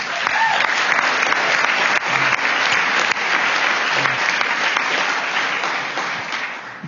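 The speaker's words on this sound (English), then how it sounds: "everyone give him a big round of applause" An audience at a school board meeting applauds a coach, with steady, dense clapping filling the room at full strength for about seven seconds, then easing slightly toward the end.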